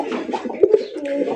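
A large red pigeon, kept in a cage, coos in a few soft, low, throaty calls, two of them sharper and louder near the middle, heard close up with no talk.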